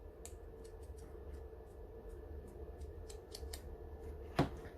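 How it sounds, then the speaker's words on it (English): Scissors cutting away excess cardboard from a gingerbread cake printout kit, a series of faint, quick snips over a low steady background hum, ending in one sharper, louder cut near the end. "I'm just going to peel this back and just cut off this excess cardboard"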